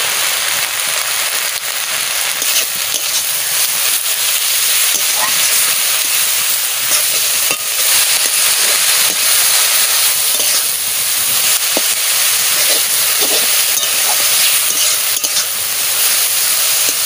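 Ingredients fry in a hot pan with turmeric and salt, a loud, steady sizzling hiss that runs unbroken for the whole stretch with no talk.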